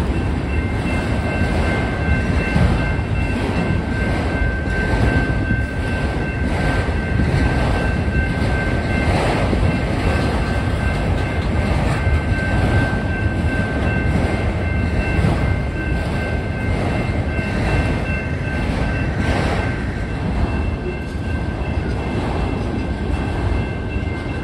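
A train rolls past at Trenton and Wyandotte, Michigan, with loud, continuous rumbling and clattering of railcars held for over twenty seconds, plus a faint high steady tone above the roar.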